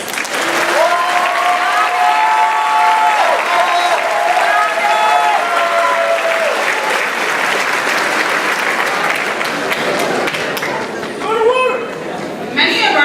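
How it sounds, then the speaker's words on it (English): A crowd at a high school graduation ceremony applauding graduates going on to a 2-year college or technical school, loud sustained clapping with cheers, whoops and chatter rising over it, close and steady throughout. "asking them to stand and be recognized by a round of applause"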